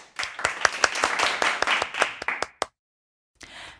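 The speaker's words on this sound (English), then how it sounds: "Clap for yourselves." Children in a primary English class clap for themselves, a burst of quick, uneven group claps at close range that stops abruptly, followed after a short silence by a brief murmur.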